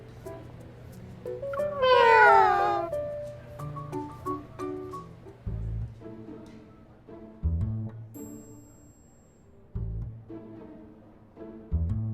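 A cat in a video game lets out a loud, drawn-out meow early on, followed by quieter sporadic sounds and low thumps over a soft background.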